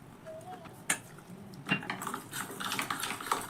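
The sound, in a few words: mixing flour batter with water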